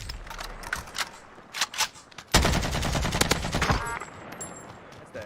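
AK-47 gunfire in a video game: a few scattered shots, then a dense, loud burst of rapid automatic fire lasting over a second, trailing off into lighter mechanical clicks.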